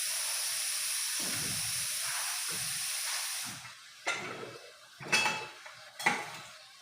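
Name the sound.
lid being opened on a cooking pot of goat karahi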